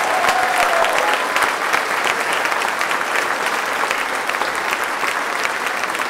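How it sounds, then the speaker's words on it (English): Audience clapping steadily at the close of a middle and high school district strings concert, a dense, sustained round of applause filling the hall without pause. "another big round of applause for our guys here in middle school, high school"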